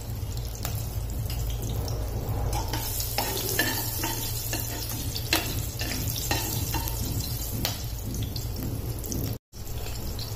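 Sliced green chillies crackle in hot oil tempering with cumin, asafoetida, turmeric and a bay leaf: a loud, constant close sizzle with scattered stirring clicks and a brief dropout near the end.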